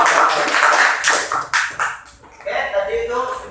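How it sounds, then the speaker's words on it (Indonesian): Classroom audience applause for a student group's presentation, a short burst of clapping that fades after about two seconds, followed by voices. "Tepuk tangan buat kelompok."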